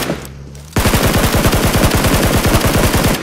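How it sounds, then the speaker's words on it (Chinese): Sustained rifle fire from two assault rifles in the mobile shooter Peacekeeper Elite bursts in suddenly and continues as a rapid, loud, evenly spaced stream of shots without pause. "听听这热闹的枪声"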